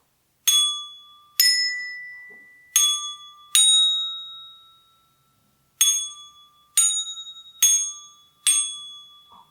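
Small handbells from a children's sound-matching toy are struck eight times in uneven groups, each clear bright ding ringing out and fading, close up with no talking.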